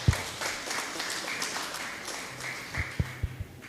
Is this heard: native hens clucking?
no